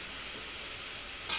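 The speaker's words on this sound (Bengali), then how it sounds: "সবগুলো আমড়া দেওয়ার পর এবারে আমি মশলার সাথে খুব সুন্দর করে মিশিয়ে নিচ্ছি" Hog plums (amra) being stirred into spices for a sweet-sour pickle give a steady soft wet mixing hiss, close and continuous, with a brief brighter scrape near the end.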